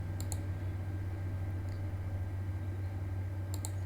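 A computer mouse clicks in quick pairs near the start and end, with one faint click between, over a steady low electrical hum.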